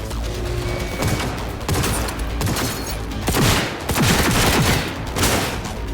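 Dense, sustained gunfire from a Cyberpunk 2077 combat scene: overlapping bursts and rapid shots layered over a loud, continuous rumble of battle noise with no clear pauses.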